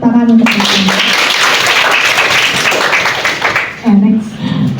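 Audience of nursing students applauding in a classroom, a burst of clapping that fills the middle of the clip, with a voice speaking just before and after it.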